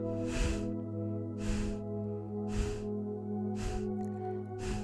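Segmented yogic exhale pushed out in short, evenly spaced puffs of breath, about five clear bursts heard close up over a continuous, humming musical drone.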